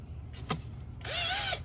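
A power drill whirs up in a short burst with a rising then steady whine, preceded by a couple of brief clicks and handling noises, during a build on a 1997 Chevy Astro van.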